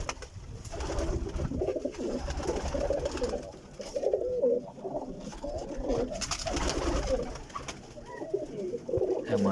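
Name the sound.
Ferozpuri teddy pigeons cooing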